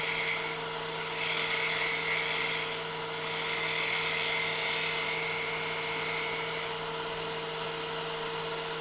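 A wood lathe spins at a steady, whining pitch while a coving tool cuts a cove into the workpiece. A continuous hiss of cutting swells and fades in a few passes, close up, with no voices.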